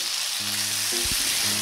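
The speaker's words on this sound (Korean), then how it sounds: "팬에 으깬 스팸 올리고 중불로 맛깔나게 볶다가 김치 투하해서 계속 볶아주세요." Mashed Spam and kimchi stir-frying in a pan over medium heat make a loud, constant sizzle, with a few short scraping and clinking sounds from stirring and no speech.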